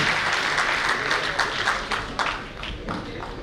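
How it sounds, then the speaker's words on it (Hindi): Audience at a Navodaya Family Worldwide event applauding a dignitary, thick steady clapping filling the hall and slowly fading toward the end, with faint voices beneath. "एक बार जोरदार तालियों से स्वागत करें आदरणीय पंडित जी।"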